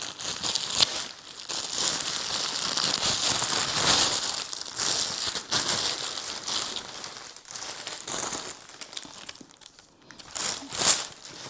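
Plastic packaging around a new everyday bag crinkles and rustles continuously as it is handled and pulled open, close and fairly loud with sharp crackling bursts.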